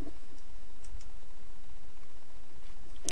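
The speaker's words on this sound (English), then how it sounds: "So I'll go ahead and type in the SQL they provided." Keys clatter faintly and unevenly as an SQL statement is typed on a computer keyboard, with sparse clicks over a low steady background hum.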